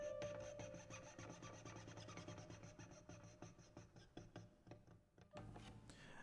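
Scratchy, rasping bowed-string texture from the Ample China Guqin virtual instrument, a sampled Chinese zither, with repeated plucked notes and friction noise running steadily throughout, fairly loud and alone.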